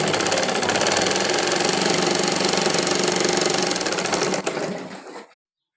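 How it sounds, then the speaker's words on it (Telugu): A sewing machine hems the folded lower edge of a child's pyjama in a steady, loud, continuous whir that runs alone for about four seconds, then tapers off and stops. "కింద పక్కన మనం ఇలా మడిచి ఫోల్డ్ చేసి కుట్టుకోవాలి"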